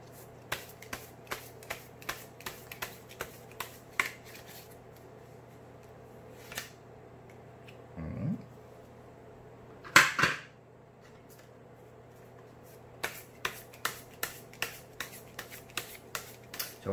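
Tarot cards being shuffled by hand, a series of quick crisp riffling snaps in two bursts with a quieter gap of soft handling and a couple of thuds between them, close and without talk.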